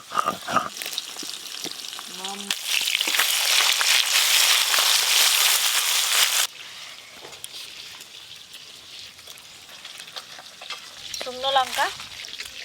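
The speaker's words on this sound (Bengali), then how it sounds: "এবার ফেসা মাছগুলো ভেজে নেব।" Fesa fish frying in hot oil, a loud close sizzle with stirring that drops to a quieter crackle midway; brief voices are heard near the start and end.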